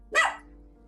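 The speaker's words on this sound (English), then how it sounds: "Bark!" A single sharp dog bark, close and fairly loud, rises and fades within a fraction of a second over a low steady hum.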